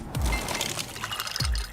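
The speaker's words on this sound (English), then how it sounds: "Those are the sounds of ice from LG's exclusive slow-melting craft ice" LG slow-melting craft ice dropping and sliding into a glass, with two quick clattering tumbles over a watery, pouring wash, close and without voices.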